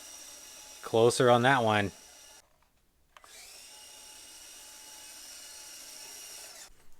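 A Traxxas TRX4M RC truck fitted with an Injora 370 motor whirs steadily at mid throttle for several seconds after a short burst of speech, the thin electric motor whine running close and fairly even.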